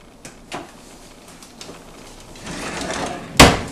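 A kitchen drawer in a Florida house slides open and shut, with a few light knocks early on and a sharp closing thud near the end, heard close against a steady room hiss.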